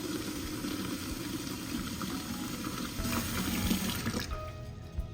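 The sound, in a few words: water filling a clay pot in the sink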